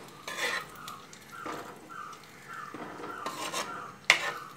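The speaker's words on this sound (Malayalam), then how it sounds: "താളിപ്പ് നമുക്ക് കറിയിലേക്ക് ചേർത്ത് നന്നായിട്ട് ഒന്ന് ഇളക്കി കൊടുക്കാം." A spoon stirs tempering into a jackfruit seed and mango curry in a pot, with several scraping, rubbing strokes against the metal and a sharp clink near the end.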